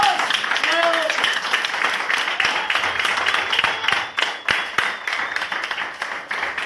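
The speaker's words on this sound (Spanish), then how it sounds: "Denle un aplauso al Señor" A church congregation applauds during a Spanish-language sermon, a dense wash of steady clapping that carries on for several seconds while a voice speaks over it.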